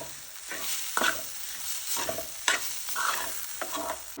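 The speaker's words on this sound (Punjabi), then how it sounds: "ਗਾਜਰਾਂ ਨੂੰ ਭੁੰਨ ਲਿਆ ਵਾ ਹੁਣ ਅਸੀਂ ਗੈਸ ਨੂੰ ਬੰਦ ਕਰ ਦਿੰਦੇ ਹਾਂ" A spatula scrapes and stirs roasted carrots in a pan for carrot kheer, giving repeated rhythmic scrapes over a light, steady sizzle, close and moderately loud with no talk.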